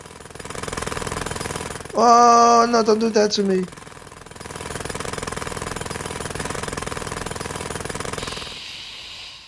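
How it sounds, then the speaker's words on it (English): Jet hammer weapon in the video game Kick The Buddy, a steady, rattling mechanical pounding that runs for several seconds after a short burst of a character voice crying out. "Okay, let's see what this jet hammer do."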